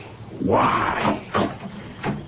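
A door creaks open with a long, rising hinge squeak in a radio drama, followed by a few softer knocks and scrapes, close and moderately loud with no talk over it.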